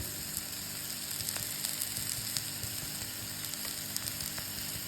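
Leftover rice fries in a pan with a continuous soft sizzle and faint crackles. It stays fairly quiet and steady throughout, with no talking.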